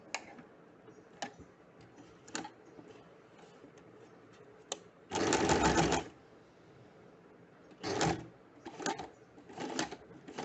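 A sewing machine stitches along the fold of a kurta sleeve placket, first with slow, scattered ticks, then with short bursts of rapid whirring stitching. The sound is close and moderately loud.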